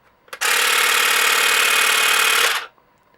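A Tekhmann TCGT-8/I20 cordless 3-in-1 grass trimmer with a reciprocating hedge blade starts with a click and runs at a loud, steady buzzing whine for about two seconds, then winds down and stops, with no talking.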